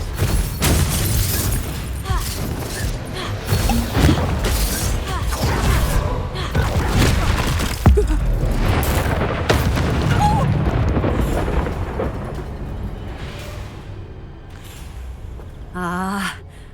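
The Confringo blasting spell going off in Hogwarts Legacy, a loud, sustained run of booming explosions and crashing debris close up, with gasps and voices mixed in and a brief magical trill at the end.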